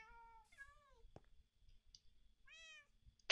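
Several house cats meow indoors, two or three clear, rising-and-falling calls spaced apart, fairly close and alone without talk.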